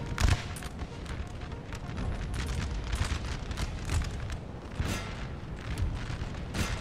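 Dense volleys of musket fire crackle and boom continuously in a Napoleonic-era battle from Napoleon Total War, the shots aimed at a militia regiment, overlapping into a steady roar with repeated sharp bursts and no break.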